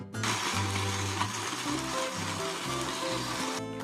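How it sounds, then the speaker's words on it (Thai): A blender whirs through a dipping sauce of roasted peanuts, lime juice and boiled water. The motor runs loud and steady for nearly four seconds, pulsing in uneven surges before cutting off. "ปั่นละเอียดแล้วก็ เทใส่ถ้วยเลยนะคะ"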